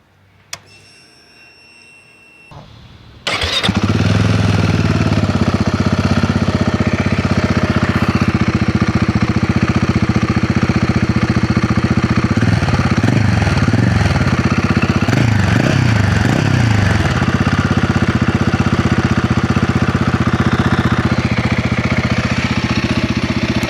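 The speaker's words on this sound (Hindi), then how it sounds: "और अब इतना बात कर ही लिया है तो इसका एक एग्जॉस्ट नोट भी सुन लेते हैं।" A Royal Enfield Himalayan 450 motorcycle starts after a quiet pause with a sharp crank and catch, then its exhaust settles into a loud, steady, thumping idle with slight revs, close up and alone for about twenty seconds.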